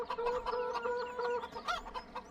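Chickens in the farming game Farm Sim 17 cluck in short, overlapping bursts, a close, busy run of fowl calls with no talk.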